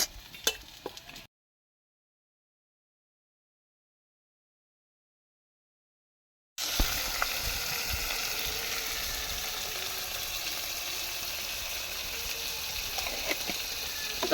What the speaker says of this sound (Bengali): লঙ্কা নুন সব মশলা ফসলা দিয়ে চিংড়ি মাছটা ভেজে নিচ্ছে